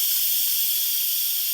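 Steam from an Instant Pot cooking chicken noodle soup blasts out of the pressure-release vent in a loud, steady, unbroken hiss, close and continuous throughout.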